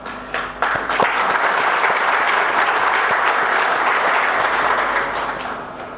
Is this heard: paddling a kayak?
no